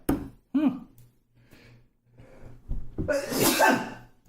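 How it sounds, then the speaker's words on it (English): A single loud sneeze bursts out near the end, following a few quiet breaths and small vocal noises. "it's making me sneeze"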